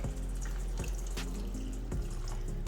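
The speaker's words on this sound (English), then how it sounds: "So I'm gonna add a little bit more water to it so it can continue to cook." Water poured into a pot of cooking steak stew meat, a steady close liquid pour with splashing and a few soft knocks, no talk.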